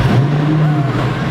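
A 2018 Lamborghini Centenario Roadster fires up from cold, its engine giving a loud, close, deep rumble that holds steady through the brief moment.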